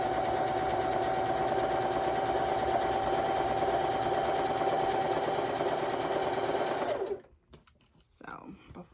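A sewing machine stitches cat-themed quilt blocks with a steady, close, fast mechanical hum and whine that runs continuously for about seven seconds, then stops abruptly, followed by faint handling sounds.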